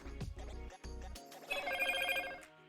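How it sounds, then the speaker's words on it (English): A mobile phone rings in an electronic melody, a series of tonal bursts and then a brighter sustained ring that cuts off near the end. "Sorry about that. That was my phone."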